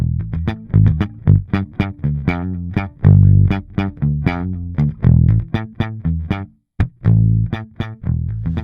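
A bass guitar played through a MESA/Boogie Subway D-800 bass amp produces a run of punchy, close plucked notes with a grainy, slightly driven edge, played rhythmically and loud with brief gaps and no voices.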